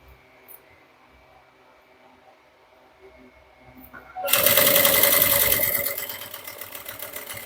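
A sewing machine stitches a straight seam to attach the collar to the lining facing of a small bucket bag, starting after a quiet moment and then running as a fast, steady, close whir.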